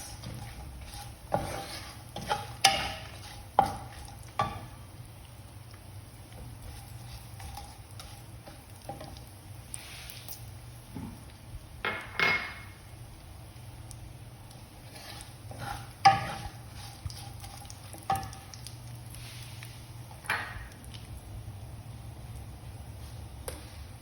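Small pieces of coconut fry with a spice paste in a pan, giving a faint, quiet sizzle broken by scattered clicks and scrapes as the mixture is stirred.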